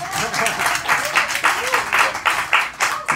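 Audience at a music college master class claps in rhythmic bursts, loud and close, with the claps falling roughly in time and vocal sounds mixed in under them.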